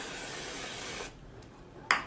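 A spray paint can hisses in a steady, close burst for about a second, then stops, followed by quiet and a brief sharp click or tap.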